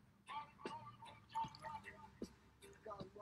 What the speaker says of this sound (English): now I'm going to add some of the gin, which is 2 ounces of gin